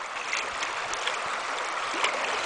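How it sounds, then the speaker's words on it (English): Class one whitewater rapids on Cadron Creek rush and gurgle steadily, a close, continuous broadband wash of moving water with no talking. "This is what we in the business call class one whitewater."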